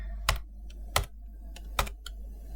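A computer keyboard is typed on in a few sparse, crisp keystrokes, close and moderately loud, with short pauses between clicks and no talking.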